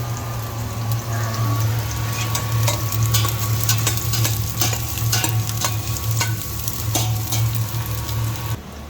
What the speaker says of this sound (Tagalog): nagigisa na po ako, guys, ng sibuyas at bawang